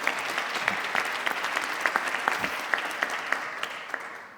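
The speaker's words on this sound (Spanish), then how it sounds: "Bueno, un aplauso." An audience at a debate gathering breaks into steady applause, with a fairly close clapping texture and some individual sharp claps standing out, slowly tapering toward the end.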